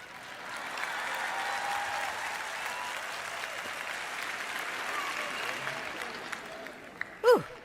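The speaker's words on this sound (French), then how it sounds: "Si vous allez applaudir, ne vous arrêtez pas à mi-chemin." Sustained applause from a large audience, steady and even for several seconds, ending with a brief sharp knock near the microphone.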